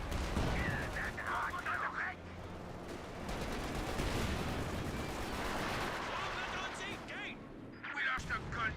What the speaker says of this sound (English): Smoke barrage, probably from Pyrotechnic Squad.